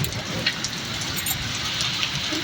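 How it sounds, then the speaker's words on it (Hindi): Heavy monsoon-style downpour in a village with hail, a dense steady hiss of rain hitting surfaces nearby, with a few sharper splashes and drips standing out over the continuous roar. "देखो बारिश कितनी मूसलाधार आ रही है।"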